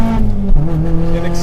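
A track-upgraded 2022 Mazda MX-5 Miata ND2 drives on a circuit, its engine holding a loud, steady drone that dips and rises briefly with a hint of tire noise, up close, under someone talking.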